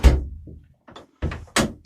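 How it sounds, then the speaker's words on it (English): A door is pulled shut inside a camper during cold weather, giving a loud close thunk followed by a couple of sharper knocks and latch clicks, with no talking. "I'm going to shut this door again."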